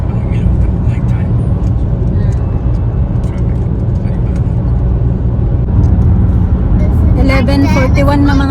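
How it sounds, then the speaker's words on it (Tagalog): Road traffic passes at night in a steady, dense rumble of car and bus engines that swells slightly toward the end, with a brief tonal sound rising over the noise in the final seconds. "Traffic."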